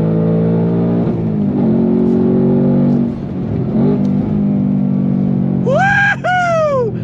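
A 2024 Ford Mustang Dark Horse engine revs steadily under hard acceleration with a strong, sustained harmonic drone. A rising whine sweeps upward near the end, close and loud.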